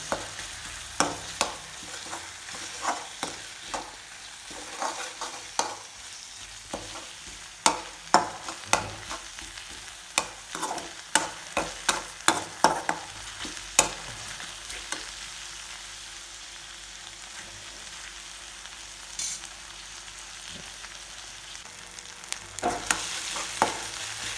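Tomatoes stir-fried in a pan, a soft steady sizzle under irregular scraping and clinking of a spatula against the metal, fairly quiet and close with no talking.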